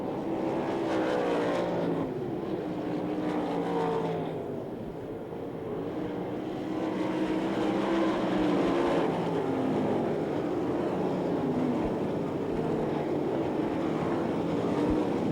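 Sprint race cars at the Knoxville Nationals race around a dirt track in a loud, sustained engine roar that swells and dips as they pass, with no clear talk over it.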